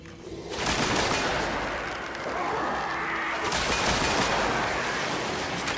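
Rapid sustained gunfire from a weapon in the video game Destiny, a dense, loud, continuous burst with a brief dip partway through.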